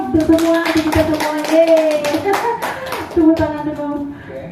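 Group of people clapping hands in an indoor session, close rhythmic claps mixed with voices talking and singing over them, fairly loud and sustained.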